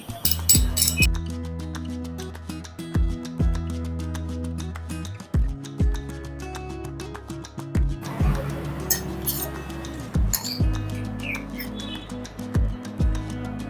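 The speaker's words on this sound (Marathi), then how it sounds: "असा ओबट धोबट ठेचायचा एकदम बारीक ठेचायचा नाही" Garlic cloves coarsely crushed in a stone or metal mortar for Akkalkot-style toor dal amti, giving repeated sharp clinking pounding strikes in irregular bursts, close and fairly loud, with no talking.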